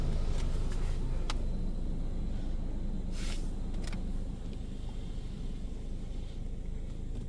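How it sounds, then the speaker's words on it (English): A second pass of pre-soak sprays onto a car in an older Washworld Razor car wash at a Mobil in Beaumont, California: a steady, muffled rush of spray heard from inside, with a few sharper hisses and a slight drop near the end. "So we're doing a double coating of pre-soak."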